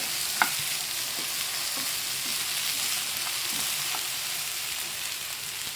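Steady, soft sizzling of potatoes and okra frying in a pan, with a few light clinks of a utensil stirring now and then, no voices.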